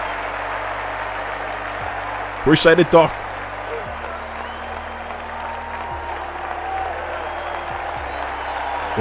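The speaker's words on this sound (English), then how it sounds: "a round of applause" A brief burst of clapping lasting about a second, with a short spoken remark nearby and a steady hum throughout.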